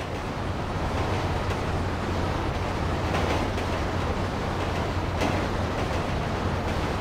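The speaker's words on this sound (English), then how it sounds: "train ain't stopping here," A train in the game Grand Theft Auto 5 rumbling along the tracks, a steady loud continuous roar with wind-like noise and no break throughout.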